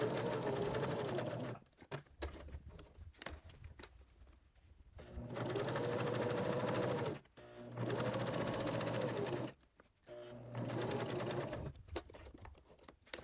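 A sewing machine stitches a fabric journal cover decorated with cross stitch, running in several steady bursts separated by short pauses, close and fairly loud, with no talking.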